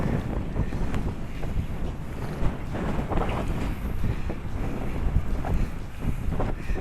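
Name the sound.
strong wind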